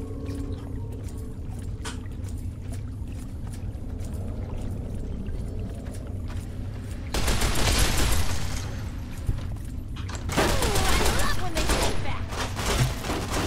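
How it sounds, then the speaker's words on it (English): Heavy machine gun fire in Fallout New Vegas, loud sustained bursts breaking out in two long stretches over background game sound, with a voice talking at times. "picking on the heavily armoured goon with a massive machine gun"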